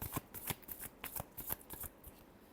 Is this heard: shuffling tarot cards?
yes